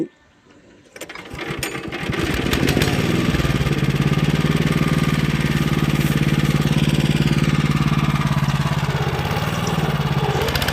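A small motor engine with its carburetor choke engaged starts up after a brief quiet moment, then runs steadily with a rapid, buzzing mechanical chatter, close and loud for the rest of the clip.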